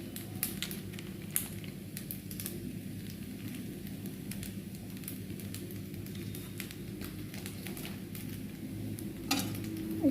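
Pasta stirred with sauce and pasta masala in a pan, a soft steady sizzle under faint scraping and occasional clicks of a utensil against the pan, quiet and continuous throughout.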